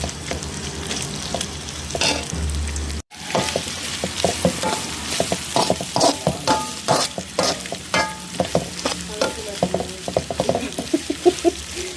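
Chicken coated in ginger garlic paste sizzles steadily in a hot pan, close and loud, with repeated scraping stir strokes building a busy, uneven rhythm; no one speaks.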